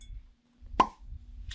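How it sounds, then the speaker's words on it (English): A cork pops from a bottle of Wild Turkey Master's Keep Triumph rye: one sharp, close plop in near silence, then a faint soft sound follows. "Ooh, nice little cork pop."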